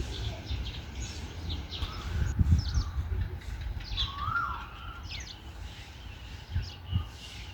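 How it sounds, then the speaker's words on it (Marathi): A cuckoo sings amid general birdsong in hot midday sun at the historic Kanchanaburi Railway Station in Thailand, its calls faint and intermittent over a low, rumbling outdoor background. "कोकिळेचं गाणं ऐकू येत आहे."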